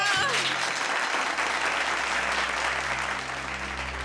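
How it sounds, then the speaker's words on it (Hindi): Audience applause at a birthday celebration, just before a young girl's act: dense, steady clapping fills the room loudly from start to finish, with a brief voice at the very beginning. "तालियां!"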